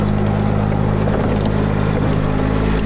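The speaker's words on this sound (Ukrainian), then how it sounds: "Отримали наразі такий потужний бойовий інженерний трактор" A powerful military combat engineering tractor's heavy engine runs continuously at close range, a loud steady rumble with droning low harmonics and no pauses.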